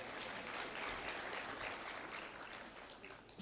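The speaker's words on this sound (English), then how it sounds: "So clap for me and you clap for boy child." A graduation ceremony audience in Kenya breaks into steady, dense applause, a continuous wash of many hands clapping at moderate distance, fading slightly toward the end.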